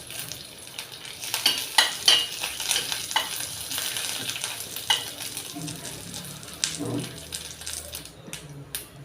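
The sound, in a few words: tempering of chillies frying in a pan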